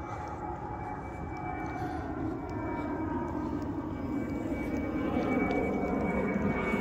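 An airplane, apparently a London flight, rumbles steadily overhead above a Christmas fair in Craiova, a continuous broad roar that slowly grows louder.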